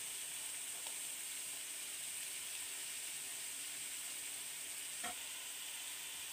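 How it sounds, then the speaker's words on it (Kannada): Onions fry in a pan toward browning for egg bhurji, giving an even, constant hiss of sizzling with a couple of faint clinks; no voices. "ಕಂದು ಬಣ್ಣ ಬರೋವರೆಗೂ ಈರುಳ್ಳಿ ಚೆನ್ನಾಗಿ ಬೇಯಿಸ್ಕೊಳ್ಳೋಣ"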